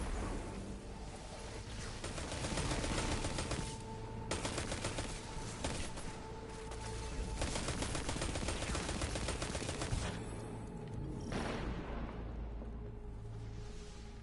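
Rapid gunfire and automatic weapon bursts from a shootout against Vex enemies in the video game Destiny on PS4, loud and continuous with dense repeated shots and brief lulls, no talking.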